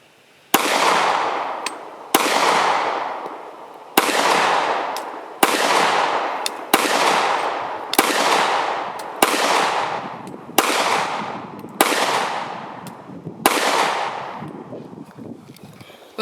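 A short single-stack handgun fires nine evenly spaced loud shots, one about every one and a half seconds, each a sharp crack with a ringing decay and no talking between.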